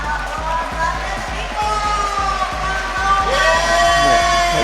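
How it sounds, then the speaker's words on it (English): Crowd at an IFSC Lead Climbing World Cup final in Inzai whooping and cheering, with rhythmic clapping beats and rising shouts growing louder toward the end, under a commentator's voice. "A big cheer from the crowd"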